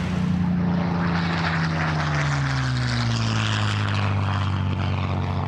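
A Supermarine Spitfire aeroplane's propeller engine drones steadily and loudly in flight, its pitch sliding gradually lower as it passes, filling the whole stretch without any talk.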